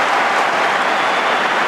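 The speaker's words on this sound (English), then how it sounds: "Crowd loved it" A stadium crowd at an Essendon versus Port Adelaide AFL football match roars and applauds steadily, a dense wash of cheering and clapping that stays loud and even throughout.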